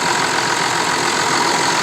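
A 2008 Kia Mohave 4WD KV300 with about 150,000 km, engine idling under an open hood: a steady, even running noise with no voices.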